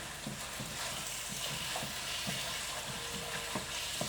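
Succotash ingredients browning in a pan, a soft steady sizzle with faint crackles and occasional stirring taps, no talking.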